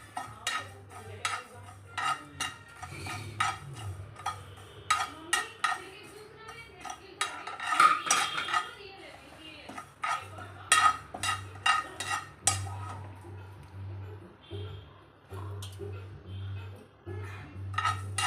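Cumin seeds are dry-roasted in a pan while a metal spoon stirs and scrapes them. Close, rhythmic scraping strokes and clinks repeat over a low steady hum, with brief pauses between bursts.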